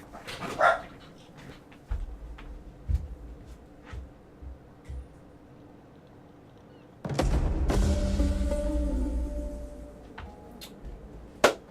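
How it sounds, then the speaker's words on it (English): Dogs in the game Rome 2: Total War give scattered single barks and yips at moderate distance, followed by a louder, dense stretch of noise with barking mixed in, then a last sharp bark. "Those dogs bark at anything that moves."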